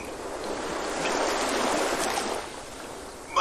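A roaring river in a puppet show, a steady broad rushing wash of water that swells in the middle and eases toward the end, with no voices.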